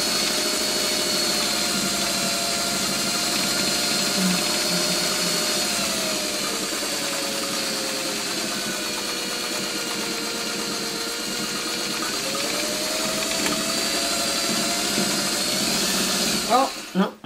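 A sewing machine hums steadily and close at a constant fast rhythm for over fifteen seconds while working with pounce chalk and templates, then cuts out abruptly with a few clunks at the end.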